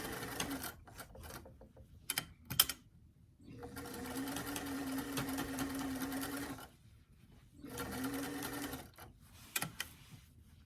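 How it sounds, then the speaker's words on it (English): A sewing machine stitches a waistband onto a garment with pressed-open seams and pockets, running in several separate bursts of fast mechanical whirring, the longest lasting a few seconds, with short pauses and handling clicks between them. "As you sew the waistband on"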